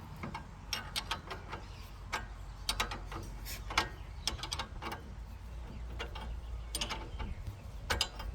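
A ratchet clicks rapidly and repeatedly while tightening a sway bar link on a Nissan Navara D40, with steady close mechanical ticking over a low background rumble.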